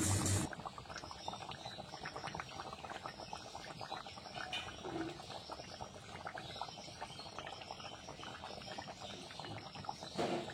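Crab and potato curry bubbles in a pot, a steady busy crackle and simmer that runs on evenly, faint and close, with no talking over it.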